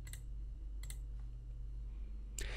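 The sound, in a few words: mouse click on OK in Microsoft Project 2016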